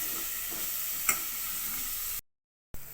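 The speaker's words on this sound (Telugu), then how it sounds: "గోల్డెన్ బ్రౌన్ కలర్ వచ్చేంత వరకు ఫ్రై చేసుకుందాం ఆనియన్స్ని" Onions and green chillies fry in a pan with a soft, even sizzle, a single small tap partway through and a brief dropout to silence near the end.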